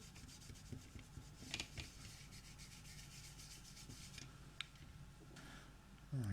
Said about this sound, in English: I'll just give it another going over with the soap.